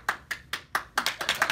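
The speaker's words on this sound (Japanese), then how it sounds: "ほら 拍手" Scattered hand claps ring out at a live comedy one-woman show in Osaka, starting as a few separate, well-spaced claps and quickening into a denser patter near the end.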